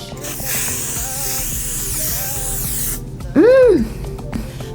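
Makeup setting spray misting onto a face, a loud continuous hissing spray lasting about three seconds, followed by a brief voiced tone and quieter handling sounds.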